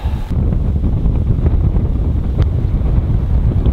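Strong wind buffets the microphone on a golf course during a winter league match, a steady loud roar with no pause throughout.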